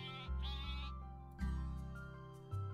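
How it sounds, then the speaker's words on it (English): Sheep bleat repeatedly in a farm roguelike video game, several drawn-out calls following one another over steady game music, fairly faint and with no talk. "let's grab some more sheep."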